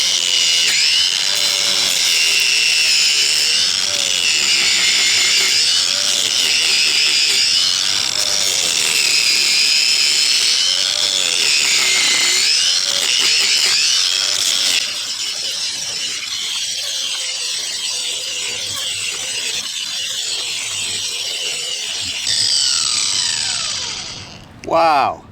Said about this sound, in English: today we try out this new carbide tipped grinder